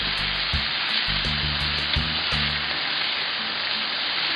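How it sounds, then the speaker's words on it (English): A pound and a half of bacon fries on a 28-inch Blackstone griddle, sizzling loudly and steadily up close, with a few low knocks in the background. "I'm cooking a pound and a half of bacon this morning on the 28-inch Blackstone griddle"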